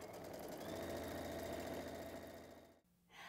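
A sewing machine stitching around a curve on a quilt block, a steady close motor whir with rapid needle rhythm that slows and stops near the end, then a softer hum.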